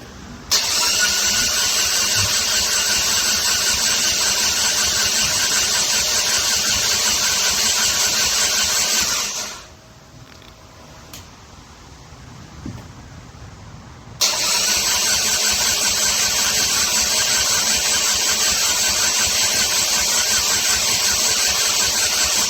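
A first-generation Dodge Neon SRT-4 coupe engine running loud and close, cutting out into near silence for several seconds before roaring back up and continuing steadily, with no talking.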